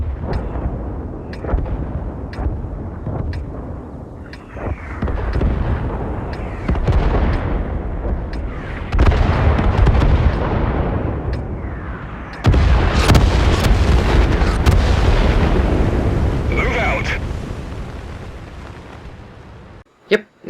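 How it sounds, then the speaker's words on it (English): Booming artillery fire opens a World of Tanks battle, with heavy blasts and rumbling barrages layered densely over about twenty seconds, loud and sustained, a voice speaking faintly underneath. "they've added some awesome effect of artillery when the battle starts"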